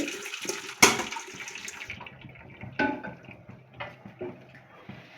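Water drains and splashes from boiled elephant foot yam being strained in a kitchen, an initial gush and sharp splash followed by softer trickling and dripping, close and moderately loud without talk.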